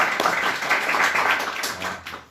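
An audience claps for Brother Paul at a gathering, a dense patter of many hands sounding fairly close for a couple of seconds before tapering off.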